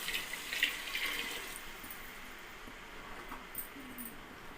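Water pours steadily into a pot of rice for biryani, a soft continuous splashing stream, quiet and close, without any talk.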